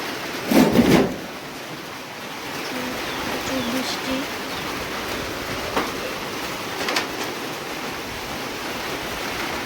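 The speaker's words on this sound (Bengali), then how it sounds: "বৃষ্টি নেমে গেল দেখো ভিডিও করার জন্য এসেছিলাম প্রচুর বৃষ্টি হইতেছে" Heavy rain falling outdoors during a village downpour, a constant broad hiss filling the background at steady loudness, with a brief louder knock near the start and a few faint sounds later.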